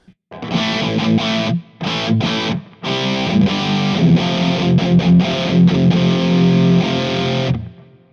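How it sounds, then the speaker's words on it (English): A heavily distorted electric guitar through a Two Notes Genome dual amp rig plays chords and riffs with a washy reverb tail, loud and continuous apart from a few brief pauses. "let's put some reverb on it"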